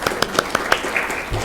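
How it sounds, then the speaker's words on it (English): A small audience at an ASU School of Space Exploration gathering gives sparse, distinct handclaps at an uneven pace, close by and fairly crisp, tapering off after about a second. "I'd also like to give Brianna a big round of applause for conquering the technology."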